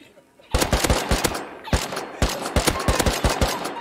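Automatic gunfire in the survival game Rust, bursts of rapid loud shots starting abruptly and continuing in dense strings with brief gaps, close and harsh.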